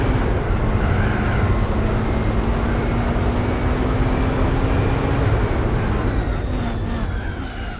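A race car in the Gran Turismo 4 video game runs with a loud, steady engine drone throughout, with a tonal whine that shifts and drops near the end as the car brakes.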